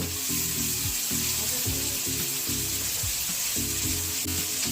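Egg tadka sizzling and frying in a pan while being stirred, a loud steady hiss with repeated scraping strokes of the spoon throughout, no voices.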